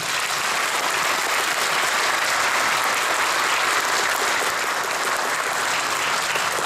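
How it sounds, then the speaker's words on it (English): Dense, loud applause from the audience at a UFO panel event in Del Rio, a steady wash of many hands clapping that holds evenly from start to finish. "So give them a round of applause"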